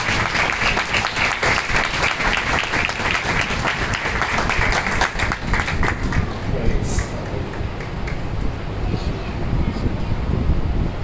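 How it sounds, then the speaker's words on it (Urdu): Church congregation at a Mother's Day service applauding loudly, dense steady clapping that fills the room, gradually thinning toward the end with some room noise mixed in. "آئیے یسوع مسیح کے لیے زوردار تالیاں۔"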